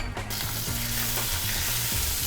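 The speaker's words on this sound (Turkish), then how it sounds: "tereyağını ekliyorum" Butter melting into caramelised pears in a pan for a pear tart, giving a steady close sizzle and bubbling with a few stirring scrapes, no voices.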